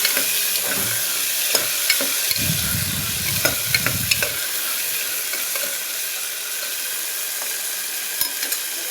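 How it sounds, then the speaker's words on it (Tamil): Ingredients frying in oil, a steady close sizzle with scraping stirs and a brief low rumbling scrape in the middle. "இப்போ இதை நல்லா எண்ணெயிலே கொஞ்சம் ஒரு 2 to 3 minutes நல்லா ஃப்ரை பண்ணலாம் ஃப்ரெண்ட்ஸ்"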